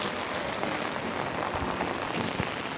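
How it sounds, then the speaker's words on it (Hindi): Heavy rain pours down beside a road in the jungle, a dense, constant hiss of drops hitting surfaces, loud and unbroken, with no voices. "दोस्तों, रोड के इस साइड पे देखिए काफी ज्यादा बारिश हो रही है।"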